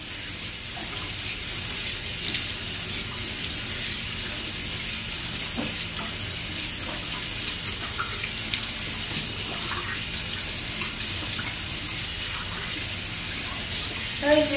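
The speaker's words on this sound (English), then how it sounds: "So then I just rinse it off." Steady running tap water splashes into a sink while face wash is rinsed off by hand, a constant close hiss that fills the whole stretch.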